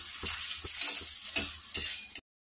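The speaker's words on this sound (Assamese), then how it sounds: "এতিয়া মই এটা এটাকৈ ভাজি লওঁ।" Aloo paratha fries in hot oil in a pan with a steady, close sizzle. Regular scraping and flipping strokes break through the sizzle until the sound cuts off suddenly. There is no talking.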